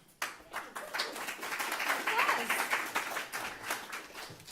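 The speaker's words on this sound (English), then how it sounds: "I don't think I deserve that applause just quite yet" Audience applause for a speaker at the Big Ideas final round kickoff event, a dense steady patter of many hands clapping that starts abruptly and holds fairly loud for several seconds without voices.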